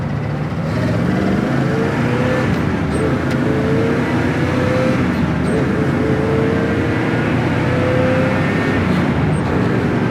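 A 1957 Chevy Bel-Air with power steering cruises on a test drive, its engine giving a steady, close drone with road and wind noise and a slight rise in pitch midway.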